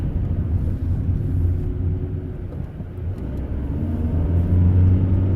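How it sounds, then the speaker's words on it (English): Car on a road, giving a steady, loud, low engine rumble that swells near the end as it passes close by. "There's a car behind me"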